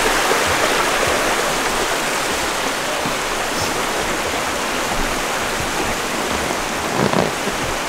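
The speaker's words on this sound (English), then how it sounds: "it's just water bubbling up out of the ground" Water and gas bubble up out of the ground at a geyser in a state park, giving a continuous dense fizzing and gurgling wash, fairly close and steady throughout.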